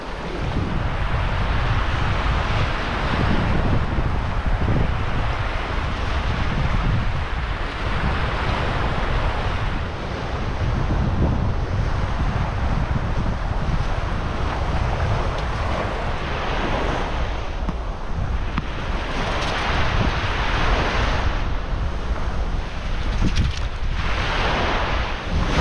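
High-tide waves roll in on Oyster Beach in Baja Mexico, a loud continuous surf roar swelling and breaking repeatedly, mixed with heavy wind buffeting the microphone.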